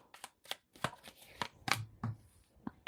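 Tarot cards shuffled by hand, a string of crisp riffling and slapping bursts, close and fairly loud, coming in quick irregular clusters with short gaps.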